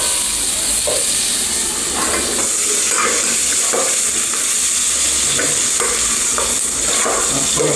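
Garlic, onion and tomato sautéing for chicken sinampalukan, a loud continuous sizzle and hiss of frying with repeated scraping strokes of a spatula stirring the pan.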